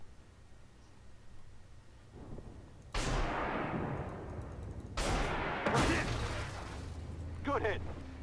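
A tank firing missiles in the armored combat game Armored Warfare: two heavy, booming launches a couple of seconds apart, each followed by a long rushing roar, over a steady low engine rumble.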